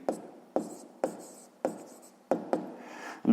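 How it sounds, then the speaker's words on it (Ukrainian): Pen writing by hand on paper during a sixth-grade math exercise: close, scratchy strokes in short bursts, about seven quick scribbles each fading out, with brief pauses between and no talking. "Записуємо перше завдання."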